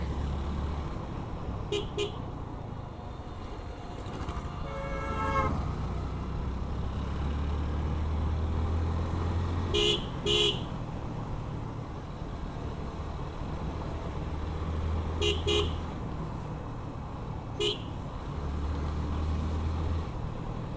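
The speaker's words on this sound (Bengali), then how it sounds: "Beep, beep." Car horn honking on a narrow village road, a few short double toots at intervals over a steady engine rumble and road noise.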